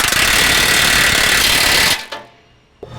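A power tool tightens the pivot bolts on the lower control arm of a 2021+ Ford Bronco with a long travel prerunner kit, a loud rapid buzzing rattle for about two seconds that stops abruptly, followed by a few faint clicks.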